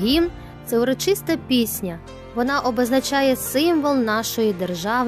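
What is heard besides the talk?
None of the usual background noises is heard.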